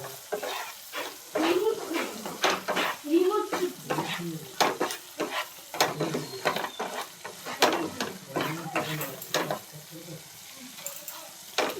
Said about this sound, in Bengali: আর 5 মিনিট মশলাটা কষিয়ে নেব